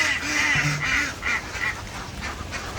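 Ducks on a farm pond honk and quack in a lively, overlapping flock, several calls in quick bursts close by, fading to softer scattered calls.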